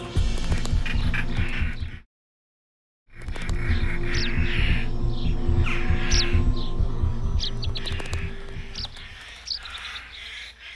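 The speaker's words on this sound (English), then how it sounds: "Rollers are very noisy at the onset of the nesting" European rollers call from around an old abandoned farmhouse where they nest, with repeated harsh chirps and calls over a dense, steady outdoor background and a short break in the middle.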